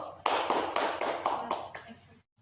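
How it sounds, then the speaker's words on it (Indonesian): Short burst of classroom clapping, a few sharp rhythmic claps from a group of pupils in an elementary school lesson, close and fairly loud, ending abruptly in silence. "Tepuk tangan dulu"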